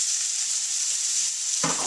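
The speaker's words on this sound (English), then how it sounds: "Then I'm going to add that medium diced onion." Diced onion sizzles in hot olive oil in a pan for shakshuka, a steady close hiss that swells with a stirring scrape near the end.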